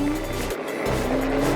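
A Mokwheel Basalt electric bike accelerates at full throttle on assist level 5, giving a steady motor whine with a rising tone over road and wind rumble. A brief lull comes early, then the sound continues, close and fairly loud.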